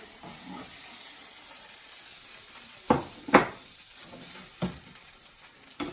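French toast sizzling in a pan, a soft steady fry hiss broken by a few sharp crackling bursts, heard close with no talking.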